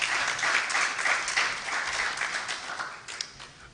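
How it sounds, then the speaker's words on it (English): Sustained round of applause from an audience at a formal launch event on Nigeria's plastic economy, steady dense clapping that stays fairly loud throughout and tapers slightly near the end. "Can we give them a round of applause?"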